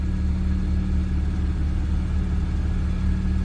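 A car engine idling steadily during an alternator output check with a Foxwell BT715 diagnostic tool, a constant low rumble and hum with no revving, close and even throughout.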